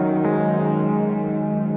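A sustained, rich synthesizer pad chord from an Equator 2 preset holds steadily, with a slight swirling movement and a soft high shimmer near the end.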